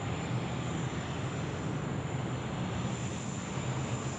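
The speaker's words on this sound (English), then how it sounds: "Qantas 744 service coming in from Adelaide, next to land here on runway 16 right." A Qantas Boeing 747-400 coming in to land on runway 16 right at Sydney Airport makes a steady, broad jet roar that holds at even loudness throughout, with no voices.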